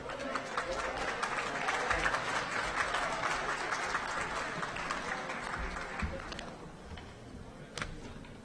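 A crowd gathered outdoors for a ribbon cutting at a recreation and aquatic center, clapping and chattering loudly together before the noise thins and dies down toward the end.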